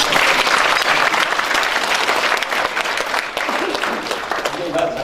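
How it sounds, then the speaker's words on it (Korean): An audience at a political speaking event bursts into sustained applause, a dense and loud wash of clapping that carries on without a break for the whole stretch and tapers only slightly near the end. "박수 한번"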